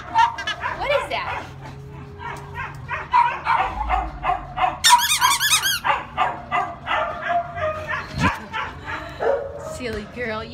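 At a county animal shelter, a dog yips, whimpers and barks in quick bursts close by, mixed with high squeaks from a squeaker toy, while a person talks throughout.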